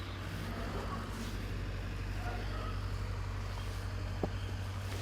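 A tractor drives across a neighbouring field while seeding, giving a steady, continuous low engine drone at a moderate distance with no breaks.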